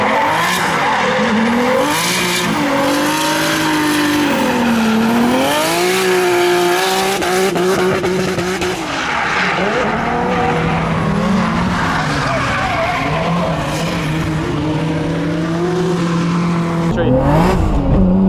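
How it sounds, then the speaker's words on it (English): A Nissan Skyline laps the E-Town race track with loud, continuous engine roar that rises and falls through gear shifts, along with tire squeal in the corners. "I'm gonna do another lap"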